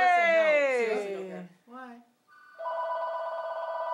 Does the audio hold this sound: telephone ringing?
yes